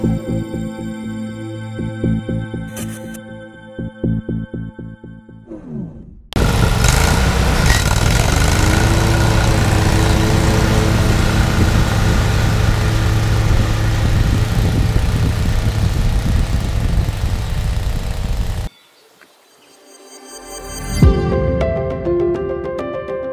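Toro Z Master zero-turn lawn mower engine mowing a three-acre property: a brief lower rumble, then a loud, steady close-up engine drone for about twelve seconds before it drops off and revs back up.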